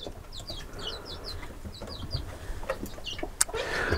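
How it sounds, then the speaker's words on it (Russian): Chickens and two young roosters in a village yard cluck in short repeated calls over steady outdoor background noise, moderately near. "Вон два петушка какие у меня красивые."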